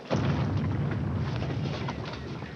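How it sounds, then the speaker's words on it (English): A heavy cannon shot from the Chateau d'If fortress, a single deep boom that hits suddenly and leaves a long rumbling low tail fading off in the distance. "The cannon of Chateau d'If."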